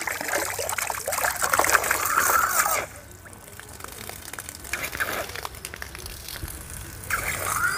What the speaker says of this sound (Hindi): आप इसको पानी के अंदर भी चला सकते हैं डाल करके